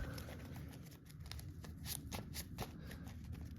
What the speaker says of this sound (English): shuffle that up.